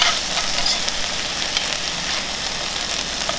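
Ground longaniza sausage meat frying in a pan with sofrito and garlic, stirred constantly, giving a steady close sizzle with soft scraping throughout and no talking.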